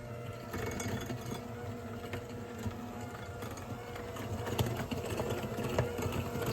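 A hand-held electric mixer whirs steadily while beating butter and sugar for snickerdoodle cookie dough, its motor drone continuous and fairly close, with faint clatter as the beaters work the bowl.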